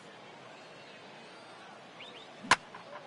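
In a PS4 MLB baseball video game, a bat strikes the ball with a single sharp crack that stands out against quiet crowd ambience, followed by faint trailing noise.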